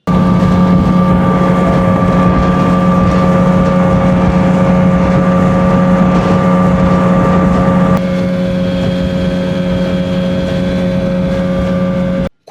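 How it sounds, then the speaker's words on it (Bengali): Speedboat engine droning steadily on the crossing to Maheshkhali island, a loud close continuous hum with strong tonal whine that drops slightly in pitch and level partway through. "আমরা স্পিড বোটে উঠে গেছি। স্পিড বোট ওঠার সঙ্গে সঙ্গে ছেড়ে দিয়েছে।"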